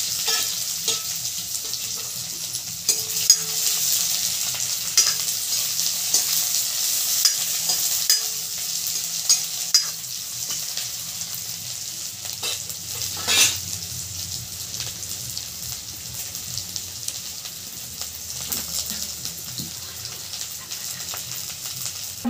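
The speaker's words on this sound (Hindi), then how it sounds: "लहसुन थोड़ा सा ब्राउन हो आप प्याज छिट देंगे" Garlic and onions sizzle in hot oil for an Uttarakhandi potato thechwani, a constant close frying hiss with occasional spatters and stirring knocks, unbroken by speech.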